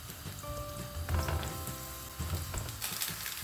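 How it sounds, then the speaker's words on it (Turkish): Eggplant slices frying lightly in two tablespoons of vegetable oil in a pan, giving a steady close sizzle and crackle with a few clinks of utensils, no talking. "Tavamızın içerisine 2 yemek kaşığı sıvı yağ alalım. Patlıcanlarımızı hafifçe kızartacağız."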